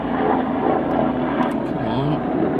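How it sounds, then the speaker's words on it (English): An air ambulance helicopter passes overhead, its steady low engine and rotor drone filling the short stretch at moderate loudness, with a voice speaking briefly underneath. "Helicopter interrupted. Air ambulance."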